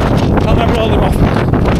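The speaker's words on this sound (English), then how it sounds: "Back into a head on wind." Strong head-on wind buffets a fell runner's microphone during a Wharfedale fell race, a steady loud rumbling roar that fills the whole moment with no break.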